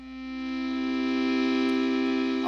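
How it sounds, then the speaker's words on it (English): A bowed glockenspiel patch run through a guitar amp and heavy effects gives a sustained, gritty, buzzing distorted drone that swells in and holds steady and loud. "The next patch is called Bowed Glockenspiel Distortion, which I made by running the sounds through a guitar amp and lots of effects to get this kind of gritty,"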